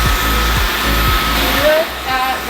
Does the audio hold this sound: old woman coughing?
no